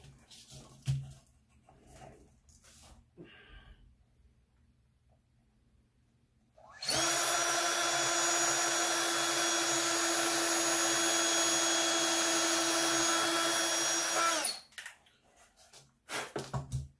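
A power drill spins a countersink bit into a Rockston Sideloader pachinko ball lifter kit, a steady loud whine lasting about eight seconds alone, with quiet handling noises before and after.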